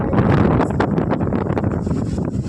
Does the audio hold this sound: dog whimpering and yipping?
no